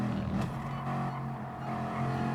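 Bugatti Veyron race cars in GT Sport at Lago Maggiore, a steady sustained engine drone with a low hum and a tonal whine, holding fairly level for a couple of seconds with no talk.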